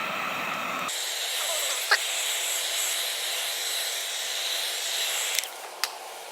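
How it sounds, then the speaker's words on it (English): A heat gun blows hot air over freshly applied leather dye in a steady, loud hiss that runs without a break, with a few faint clicks near the end. "grab your heat gun, apply heat"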